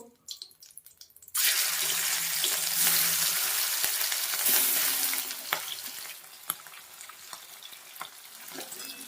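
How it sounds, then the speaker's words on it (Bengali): Fish frying in hot oil, starting with a sudden loud sizzle that holds steady, then eases into softer crackling with occasional sharp pops and utensil touches. "দেখো একইভাবে আমি আর সব মাছগুলো ভেজে নেব।"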